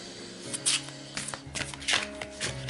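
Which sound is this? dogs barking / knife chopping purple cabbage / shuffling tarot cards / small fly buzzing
shuffling tarot cards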